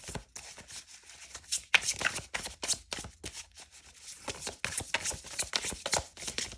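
A deck of tarot cards is shuffled by hand up close, with rapid irregular riffling and flicking bursts, crisp and fairly quiet, going on without pause.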